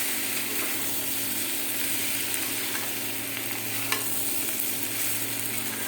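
Prawns with spices sizzle steadily in a pan while being stirred, a close, continuous frying hiss with occasional scraping clicks from the utensil.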